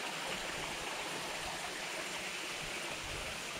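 Thanh Long mountain stream on Cam Mountain, a steady broadband rush of flowing water, close and even in level, with no voices.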